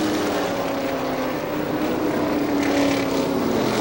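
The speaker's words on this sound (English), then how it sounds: "Motor is still running." A race car engine at Star Speedway in New Hampshire keeps running steadily after a front end breakage, a continuous droning hum heard at a middle distance with no talking.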